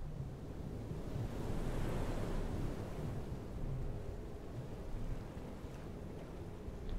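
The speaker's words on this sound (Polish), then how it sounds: "Dobra, wiatr, w którą wieje, w jakąś dziwną stronę wieje." Steady wind blowing over open sea in the video game FAR: Changing Tides, a constant broad rushing roar mixed with wave wash, loud and unbroken with gentle swells in intensity and no talking.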